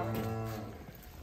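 A deep, drawn-out cow moo with rich low harmonics, close and fairly loud, fading out over about a second.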